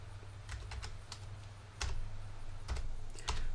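Keys tap on a computer keyboard in short clusters of crisp clicks, close and fairly quiet, with a low steady hum underneath and no voices.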